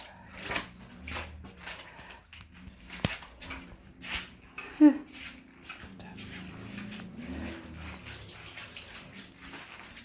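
Frightened dogs whimpering indoors in a house, with soft intermittent whines, shuffling and scattered knocks, fairly close and quiet.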